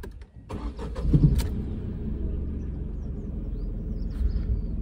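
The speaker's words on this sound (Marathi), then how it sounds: "गाडी स्टार्ट करतो आणि इंजिनचा आवाज आहे का" A Tata Nexon car engine cranks and catches with a short burst, then settles into a low, steady idle rumble heard close up.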